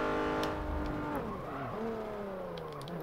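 Honda Odyssey minivan with a 3.6-liter V6 in Forza Motorsport 7, engine droning loud and steady with pitch sliding up and down through gear changes, tire noise faintly underneath.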